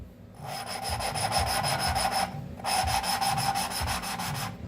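Rhythmic gritty rubbing as a 1945 Ford 2N tractor engine valve is lapped back and forth against its seat in two sustained bursts with a short pause between, close and steady.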